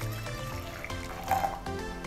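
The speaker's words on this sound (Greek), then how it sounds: "Έχω ζεστάνει 100 γραμμάρια νερό, οπότε θα το ρίξω το ζεστό μου το νερό" About 100 grams of hot water is poured into a bowl of 250 grams of oat flakes in a kitchen. A short, soft splashing trickle sounds close by over faint background music.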